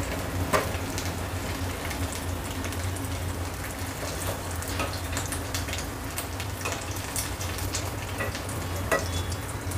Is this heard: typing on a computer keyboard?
no